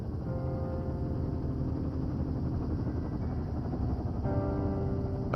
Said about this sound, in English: Well, there's the helicopter.